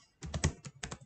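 Computer keyboard keys typed in short bursts of clicks, several quick strokes with a brief pause between groups, close and clear with no voice.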